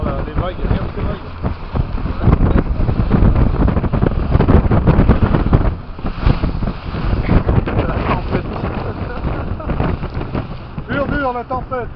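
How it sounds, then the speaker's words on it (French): Waves and strong wind during a storm at sea, a loud continuous roar with buffeting gusts on the microphone and water churning, while people talk over it. "On va voir les vagues, regarde ces vagues."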